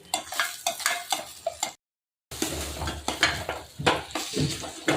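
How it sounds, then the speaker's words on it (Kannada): Five eggs being whisked in a bowl at home, heard as a steady run of quick, close clinks and scrapes against the bowl, broken by a brief silent gap before the rhythmic mixing resumes. "ಈಗ ಐದು ಮೊಟ್ಟೆ ಹಾಕೊಂಡಿದ್ದೀನಿ ಎಲ್ಲ ಮಿಕ್ಸ್ ಮಾಡ್ಕೊತಿದ್ದೀನಿ"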